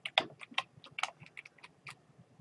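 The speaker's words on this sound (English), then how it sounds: "we'll just type in the command" Quick run of crisp keystrokes on a computer keyboard entering a command, about a dozen close taps in an uneven burst lasting two seconds, with no talk over them.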